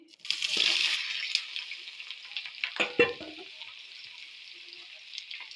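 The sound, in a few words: jackfruit frying in mustard oil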